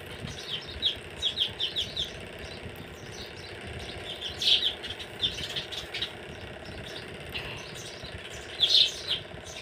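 Small birds chirp in short, scattered bursts at a distance over a low, steady engine-like rumble.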